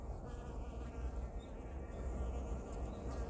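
A close, steady hum of honeybees working through freshly opened spring blossoms, continuous and fairly soft throughout.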